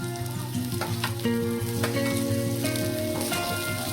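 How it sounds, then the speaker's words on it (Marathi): Chopped tomatoes drop into onions frying in hot oil, giving a steady loud sizzle with stirring and scraping in the pan, a brief surge as the tomatoes land, and no voices. "आता आपण त्याच्यामध्ये कट केलेला टोमॅटो टाकणार आहोत"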